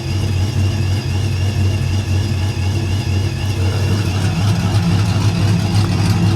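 A car engine idles with its electric exhaust cutout open, a loud, deep, throaty exhaust rumble, steady and close throughout.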